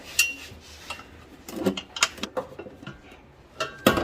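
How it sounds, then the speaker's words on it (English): Hand-bolting a car battery bracket into place: scattered metallic clinks, light scrapes and ratchet-like clicks up close, irregular and fairly faint, with no voices. "we're just gonna bolt everything down in place"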